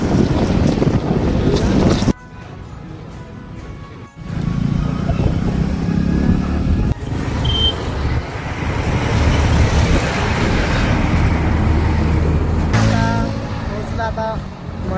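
Riding a motorbike alone on an open road, heavy buffeting wind roar over the microphone with engine rumble underneath, loud and continuous, dropping and surging as the wind shifts.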